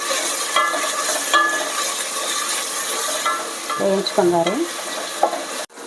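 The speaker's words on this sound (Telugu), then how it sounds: "ఇప్పుడు అల్లం వెల్లుల్లి పేస్ట్ 1 స్పూన్ అయితే వేసుకుంటున్నాను. పచ్చివాసన పోయేంత వరకు వేయించుకున్నారు." Ginger garlic paste fries with onions in a pan, a steady close sizzle with repeated scraping strokes of a spoon stirring, ending in a brief clatter, no talk.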